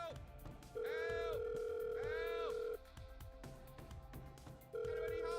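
A phone call ringing tone in the GTA V roleplay game, two long electronic tones separated by a pause, with a third beginning, clear and loud over faint background noise.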